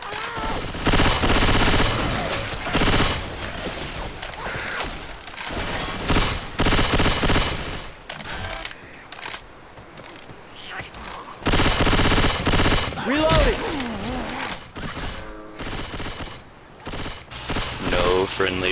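Left 4 Dead 2 gunfire from the Parish campaign, with dense automatic bursts that come in long, loud stretches broken by brief quieter gaps, mixed with game noise and occasional voices.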